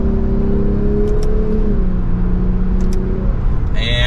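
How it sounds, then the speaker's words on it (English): A 2023 Lexus IS 350 F Sport in sport mode pulls through third gear under a small, paddle-shifted acceleration, its engine drone rising steadily and loud inside the cabin, with a brief shift near the end. "We'll give it a small acceleration from third gear."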